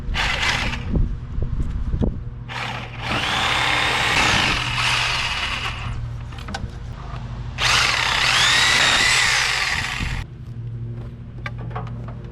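A corded power saw cuts through nails to pull apart wooden boards for a firewood crib, with several loud, sustained whining bursts separated by brief pauses and no talking.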